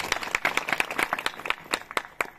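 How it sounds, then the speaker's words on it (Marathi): A seated audience at a devotional kirtan gathering claps in loose, scattered applause of sharp, close handclaps that rise and fall in density. Nobody talks over the clapping. "मी सगळ्यांसाठी प्रथम मी टाळ्या वाजवते, नंतर तुम्ही आपल्या आपल्यासाठी"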